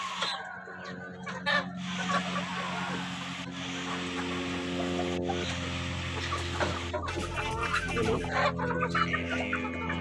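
Backyard flock of Saso, Rhode Island Red, Black Australorp, Barred Plymouth Rock and Texas hens and roosters, with steady overlapping clucking and calls from several birds nearby and a sustained rooster-like call in the middle.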